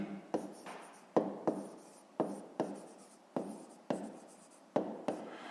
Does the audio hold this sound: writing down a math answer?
yes